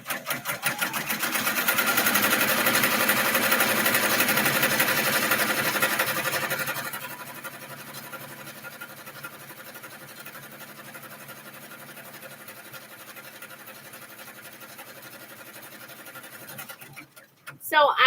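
Sewing machine running a quick test stitch with glow-in-the-dark thread, a steady mechanical whir that grows louder for several seconds and then drops to a quieter hum before stopping.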